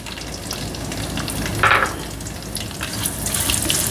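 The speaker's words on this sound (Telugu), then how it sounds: "ఇప్పుడు ఈ ఉల్లిపాయ వేసేస్తున్నాను." Chopped onion added to a hot pan for mutton pulao, giving a steady, close frying sizzle throughout with a brief louder crackle partway through; no talking.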